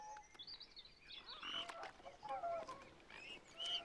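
Hungry swans waiting to be fed give honking, nasal calls in a scattered, overlapping series over faint outdoor background noise, moderately close and fairly soft.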